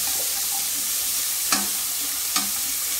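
Bacon frying in a pan, a steady soft sizzle throughout with two brief sharper scrapes or pops of the pan standing out near the middle and end.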